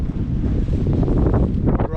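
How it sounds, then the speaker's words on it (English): Strong wind buffets the microphone aboard a sailboat under way, with one reef in the mainsail and one in the foresail; a loud, steady roar with gusting swells and water noise persists across the whole stretch. "Wind really picked up now."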